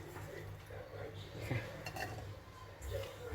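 Mulberries clatter into a metal pan for making jam, with clinks and scrapes of a utensil, close by, with some faint talking in the background.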